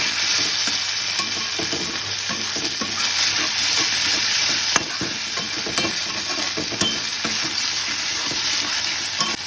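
Masala for an aar fish curry being sautéed with salt in a pan, a loud, dense, unbroken sizzle with occasional spoon scrapes and ticks, close and steady, no voices.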